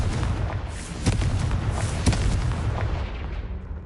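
Confringo blast spell exploding in the Hogwarts Legacy video game, a few heavy booms and bursts over a continuous rumbling roar of battle noise, loud and without talk.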